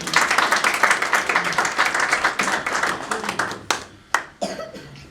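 A church congregation claps at a sermon: a brisk, steady patter of many hands that thins out partway through, leaving a few scattered, sharper claps at the end.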